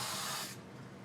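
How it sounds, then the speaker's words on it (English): A can of 3M Super 77 multipurpose spray adhesive releasing a short, close, steady hiss that cuts off after about half a second, leaving a softer fading spray. "I'm using some 3M Super 77 multipurpose spray adhesive."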